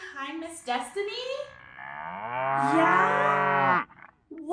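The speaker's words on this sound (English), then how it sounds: "Do you know what sound a cow makes? Yeah? Cows say moo." A cow gives a long, loud, drawn-out moo close by, rising and holding before breaking off, with short bursts of talk and other farm sounds around it.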